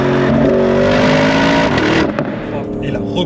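Porsche Cayenne Turbo GT accelerating from about 64 km/h, with a loud engine note whose pitch climbs steadily and then eases off, heard from inside the car as someone talks over it.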